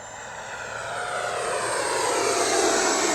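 An FMS F-86 Sabre 80mm electric ducted-fan RC jet makes a full-speed pass down the runway, a loud steady rushing whine that swells as it comes closer.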